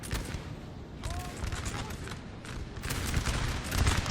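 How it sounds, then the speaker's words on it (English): Artillery fire from coalition guns in a Napoleon: Total War 1799 Flanders battle, a steady crackle of distant musketry and booming cannon with swelling rumbles toward the end, battle noise running throughout. "Artillery also firing for the coalition."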